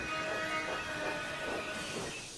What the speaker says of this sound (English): Thomas applied his brakes and stopped, just in time.